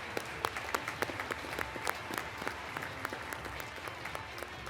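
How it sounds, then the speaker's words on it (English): Audience applause for scholarship sponsors at a Montana FFA State Convention general session, with dense, steady clapping from a large crowd that holds throughout at a consistent level. "Let's give these scholarship sponsors a round of applause."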